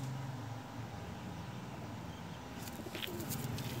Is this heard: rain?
no